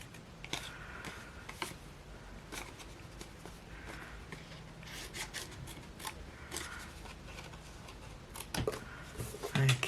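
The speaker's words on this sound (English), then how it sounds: "bring in a longer pair of scissors." Paper snipped with a longer pair of scissors during card making, giving a series of sharp, close crisp cuts and light rustles, with no voices.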